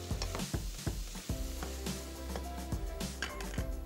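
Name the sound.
ground red chili, turmeric and cumin stirred in pan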